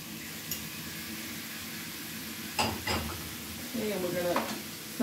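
Very thin-sliced meat for a Philly cheesesteak fries in a pan with a constant low sizzle, broken by a few clattering stirs and scrapes of a utensil against the pan.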